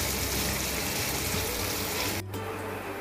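Chopped onions fry in a pan on a gas stove turned to medium flame, a steady, close, broadband sizzling hiss that holds at a constant level and eases slightly near the end.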